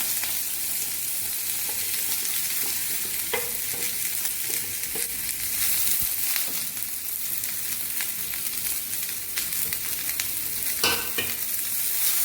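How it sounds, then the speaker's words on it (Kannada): Finely chopped onions frying in a pan with popped mustard seeds, giving a steady close sizzle with intermittent scrapes and knocks of a spatula stirring, no voices. "ಸಣ್ಣಗೆ ಹೆಚ್ಚಿರೋ ಈರುಳ್ಳಿನ ಬಾಣಲೆಗೆ ಹಾಕ್ತಾ ಇದ್ದೀನಿ."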